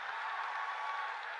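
Sustained audience applause at a motivational talk, a dense steady wash of many hands clapping together, loud and continuous with no voices over it.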